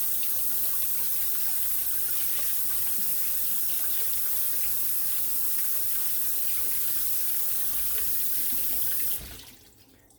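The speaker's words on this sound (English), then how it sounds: "Wash my hands very quickly." A kitchen water tap runs steadily into a sink during hand washing, a constant broadband rush heard alone that cuts off near the end.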